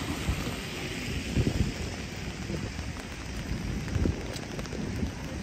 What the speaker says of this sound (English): The rain is picking up right now.